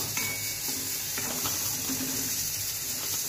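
Cauliflower sautéing in a pan with turmeric and red chili powder, a continuous close sizzle and stirring with faint scraping, no talk.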